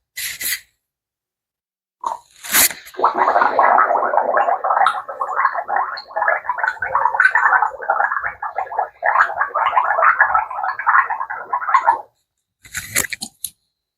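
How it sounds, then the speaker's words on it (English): Salt water being gargled in the mouth: a continuous, close bubbling gurgle lasting about nine seconds, with brief clicks and sloshing sounds just before and after. "So I start by gargling with it, and I just stick it in my mouth."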